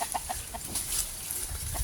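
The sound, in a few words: chickens clucking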